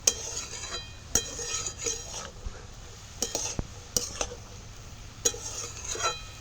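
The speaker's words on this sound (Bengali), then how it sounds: "নুন হলুদ দিয়ে নাড়াচাড়া করে কিছুক্ষণ ভাজলাম" A spatula repeatedly scrapes and clinks against a pan in irregular strokes over a faint sizzle of banana stem frying with salt and turmeric.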